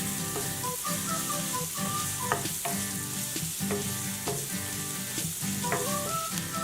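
Ginger garlic sautés in a pan for a South Indian vegetable kurma, a constant close sizzle broken by rhythmic scraping and clinking of a spoon stirring against the metal.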